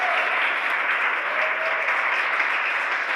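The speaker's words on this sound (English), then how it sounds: "You hear the applause here in Hawthorne." Crowd in the SpaceX mission control room in Hawthorne applauding after the Crew-2 Falcon 9 second stage reaches orbit, a dense, sustained wash of clapping at even loudness throughout.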